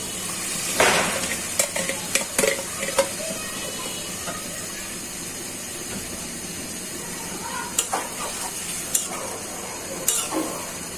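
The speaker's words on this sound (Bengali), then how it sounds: "সাথে দিয়ে দিচ্ছি ফেটানো টক দই" Beaten sour yogurt goes into a pan of egg korma with fried eggs, raising a steady close hiss and sizzle, punctuated by a few sharp clicks and scrapes of stirring; no one speaks.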